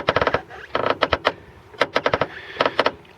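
Worn strut support bearing on a VAZ 2111 creaking as the steering is turned, rapid bursts of sharp rattling clicks in groups separated by brief pauses, close up with no talking.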